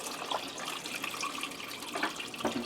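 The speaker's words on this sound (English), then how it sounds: "And I'm going to put some water here. This is cold tap water." Cold tap water runs steadily into a container over steaks, a faint continuous splashing with a few soft clinks, no voices.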